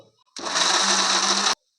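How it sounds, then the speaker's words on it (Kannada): A kitchen mixer grinder whirs loudly for about a second while grinding soaked rice with boiled potato into a smooth batter, starting and stopping abruptly with quiet on either side. "ಇದನ್ನು ಅಕ್ಕಿ ಜೊತೆಯಲ್ಲಿ ನೈಸಾಗಿ ರುಬ್ಕೋಬೇಕು"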